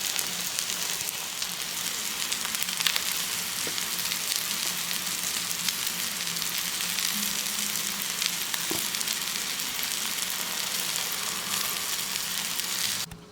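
An egg white fries slowly over low heat in a pan alongside Spam hash, making a dense, even crackling sizzle with occasional small pops. It stays steady and close for the whole stretch, with no talking.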